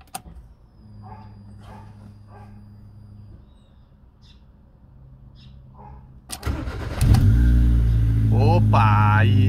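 Fiat Palio car engine cranking and firing up after faint background chirps, then settling into a steady loud idle close by.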